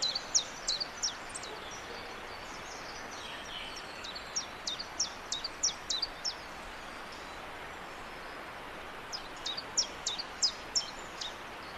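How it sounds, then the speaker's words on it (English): A chiffchaff sings its repeated staccato two-note song. Thin, high chip-chaff notes come in spaced runs, fairly distant, over a steady background hiss. "Chiffchaff says its name."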